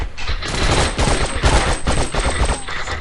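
Rapid bursts of gunfire from a video game gun, dense overlapping shots rattling continuously for three seconds with no speech.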